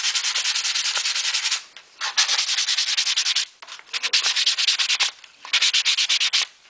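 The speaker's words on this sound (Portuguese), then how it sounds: "A gente usa lixa de madeira 220 para poder lixar a caixinha." 220 grit wood sandpaper rubs quickly back and forth over an MDF box in rapid rhythmic strokes, in several bursts with brief pauses between them, close and clear.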